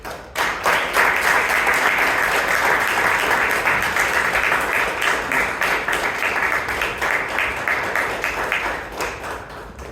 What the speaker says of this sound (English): Can we once again have a big round of applause for all our super women?